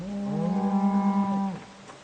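A single long cow moo from the Project Zomboid video game, drawn out for about a second and a half before fading, loud and close with no talk over it.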